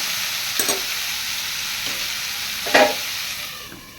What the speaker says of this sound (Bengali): দেখো আমার প্রায় হয়ে গেছে আলু পেঁয়াজ ভাজা, নামিয়ে নেব।